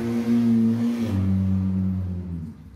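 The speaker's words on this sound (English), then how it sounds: "I'm kind of recording this in my living room, so there's traffic and such." Road traffic heard from inside a living room: a single vehicle's engine hums past with its tone sliding lower as it moves away, then fades off.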